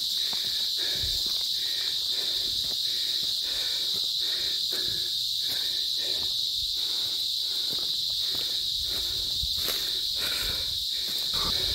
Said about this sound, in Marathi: रातकिडे आहेत का कुठले किडे आहेत नक्की नाही माहिती, पण मजबूत आवाज आहे